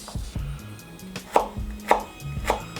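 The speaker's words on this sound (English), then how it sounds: "And we're gonna do little mince." A knife chops ginger into a fine mince on a cutting board for a chicken teriyaki sandwich, giving a series of close, crisp taps in an uneven rhythm, with three sharper strikes standing out.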